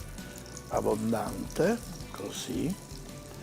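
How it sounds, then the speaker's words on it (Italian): Oil sizzles in a frying pan during a sweet-and-sour cooking session. A soft, steady hiss runs beneath a person speaking in short phrases close by. "e andiamo a fare friggere"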